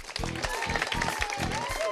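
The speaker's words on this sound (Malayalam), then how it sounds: "ഒന്ന് കൈയടിച്ചേ" An audience clapping at a campus entertainment show, a burst of applause with rhythmic claps under loud background music and some talk.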